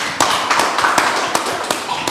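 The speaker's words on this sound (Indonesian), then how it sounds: "Tepuk tangan dulu." Claps ring out during a live Ramadan talk show, a handful of sharp, distinct slaps spaced unevenly at close range, with no voices over them.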